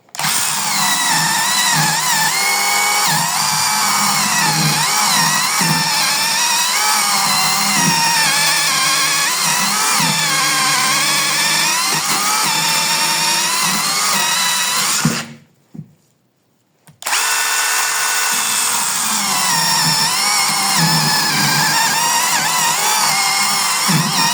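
A Dnipro-M DMS-201BC cordless chainsaw cuts through birch with a loud, continuous whining buzz, stops abruptly for about two seconds, then resumes cutting at full strength.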